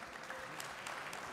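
Audience applause at a summit debate on entrepreneurship: a steady, dense patter of many hands clapping at moderate distance, filling the hall evenly with no talk over it.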